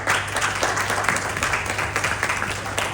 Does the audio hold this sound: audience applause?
yes